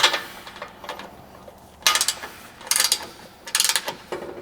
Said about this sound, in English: So I got my torque wrench, tighten it down